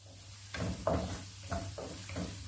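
Onions sauté with garlic in a pan, a soft sizzle broken by several scraping stirs of a spoon, close and quiet with no talk.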